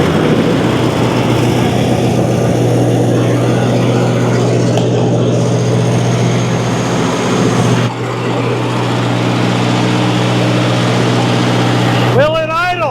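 An old Lindsay air compressor engine, just revived after sitting, runs at a steady idle throughout with a continuous low mechanical drone, loud and close, with a brief dip partway through and people speaking over it.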